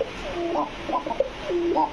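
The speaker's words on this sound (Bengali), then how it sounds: "এটা হলো কোকা কবুতর ভাই, ঠিক আছে?" Fancy domestic pigeons of the Lahori and Kokka breeds, kept for sale, give several low, throaty rolling coos close by at a soft level.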